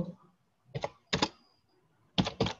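Typing on a computer keyboard while writing a blog post, heard as four or five close, crisp bursts of key clicks separated by brief pauses, alone with no talk.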